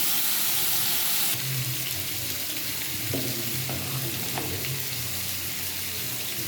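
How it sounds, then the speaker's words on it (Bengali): Spices sizzle steadily in a hot pan for vegetable khichuri, a continuous close frying hiss with a few soft stirring scrapes, no voices. "মশলাগুলো আমি ভাজবো ছয় সাত মিনিট ধরে ভাজতে হবে"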